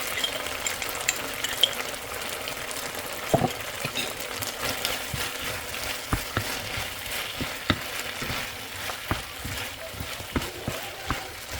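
Onions and garlic paste fry in a pan for a beef stir fry, giving a steady soft sizzle with scattered clicks and scrapes from stirring, moderately quiet and continuous.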